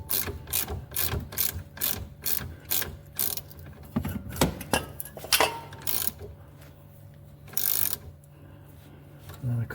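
Ratchet wrench with a socket working rusty bolts on a VW Golf Mk5 during front spring replacement: rapid, close metallic clicking in repeated bursts, with brief pauses and one steady stretch of ratcheting near the end.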